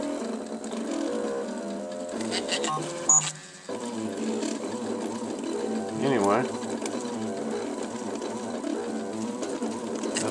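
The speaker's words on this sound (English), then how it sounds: "that's it, the 3D printer. The first one, Mark 1." A homemade wooden 3D printer, the Mark 1, runs with whirring, buzzing stepper motors in shifting tones and a brief clack near the middle, while someone talks over it.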